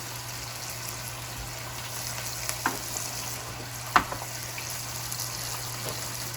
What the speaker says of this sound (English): Now we're gonna let it fry.